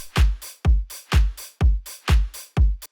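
A punchy electronic drum mix in Ableton 10.1 plays six heavy, evenly spaced hits, each a booming kick with a bright crack that decays quickly. The groove is loud and dry, with no voices.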